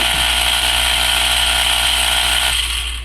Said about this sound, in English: this new drill bit has run out